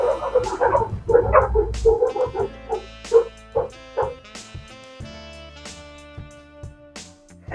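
Several dogs barking and yipping close by, a loud cluster of overlapping barks at first, then single sharp yaps spaced out and fading to occasional whimpers, with no talk.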